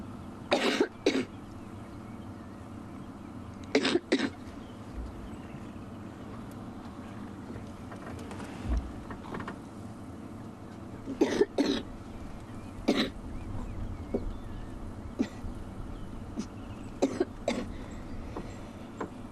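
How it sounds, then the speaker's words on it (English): Several bursts of coughing, close and fairly loud, spread through a long stretch of low steady rumble with some throat clearing. "Sorry, please excuse the coughing."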